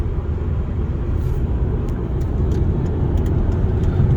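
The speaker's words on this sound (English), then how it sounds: "foot down 5th gear, no downshifting" A 2011 Volvo C30 R with a manual gearbox accelerates hard in fifth gear on an interstate highway, giving a loud, steady engine drone and road roar from inside the cabin, with no speech.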